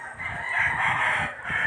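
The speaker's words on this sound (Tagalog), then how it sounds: "maraming manok kasi dito sa gilid na pangtari" A rooster crows loudly and close by, one long drawn-out call with no other sounds around it.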